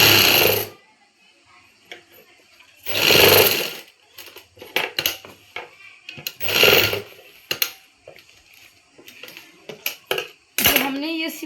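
Sewing machine stitching a palazzo seam in three short bursts of rapid whirring, separated by clicks, fabric handling and soft mechanical taps.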